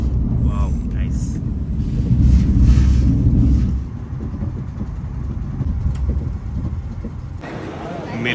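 A high-speed train from Switzerland pulls into Milan with a loud, deep rumble that eases off partway through, leaving a quieter, steady background of running noise.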